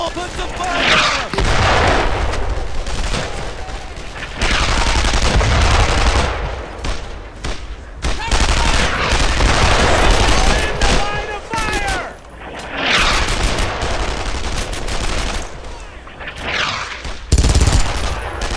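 Gunfire in the World War II shooter game Brothers in Arms: Earned in Blood, loud sustained bursts of rifle and machine-gun fire with explosions and shouted squad commands mixed in.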